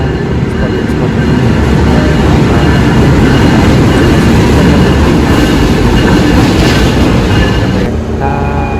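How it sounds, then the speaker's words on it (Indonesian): A Sidoarjo commuter train passes a station, a loud, close, continuous rumble of wheels and rail clatter filling the whole stretch before easing near the end. "Ini adalah komuter Sidoarjo kalau nggak salah."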